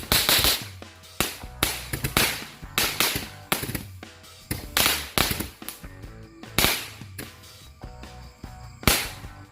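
Many firecrackers and fireworks go off at night during Ramadan, a rapid, dense run of loud sharp bangs and crackles with no voices.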